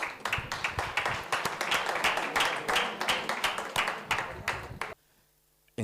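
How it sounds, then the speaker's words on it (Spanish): A conference audience claps for several seconds, a dense and fairly even applause that cuts off abruptly near the end, followed by near silence. "Un aplauso."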